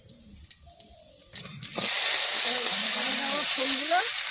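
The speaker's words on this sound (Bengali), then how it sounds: "তেল গরম হয়ে গেছে, জিরে দেবো" Cumin seeds land in hot oil in a wok. After a few soft clinks and taps, a loud, sharp sizzle erupts and keeps crackling and hissing steadily close up.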